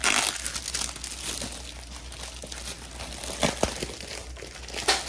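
A plastic bag wrapped around a large cross-stitch kit is opened up close, giving steady crinkling and rustling with a few sharper crackles, and no talking.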